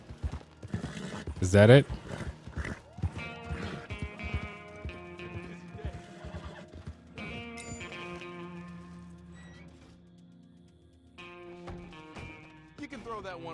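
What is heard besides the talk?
horse in Red Dead Redemption 2 video game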